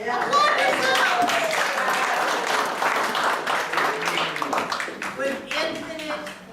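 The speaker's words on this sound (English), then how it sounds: "You can applaud! Applaud yourself!" A Palm Sunday church congregation claps at close range, the applause swelling and thinning unevenly, with a voice speaking over it.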